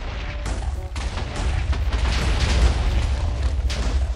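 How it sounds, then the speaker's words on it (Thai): TNT blocks explode in a Minecraft game while a house is being demolished, heavy booms piling into one another as a continuous rumbling barrage, loud and close. "ต้องจุดระเบิดได้ถูกจุดเว้ยมาถูกทางแล้ว"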